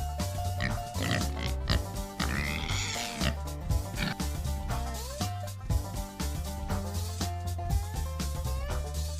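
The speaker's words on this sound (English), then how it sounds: "Pig." A pig grunts and oinks in short bursts over a background of music with steady beats running throughout.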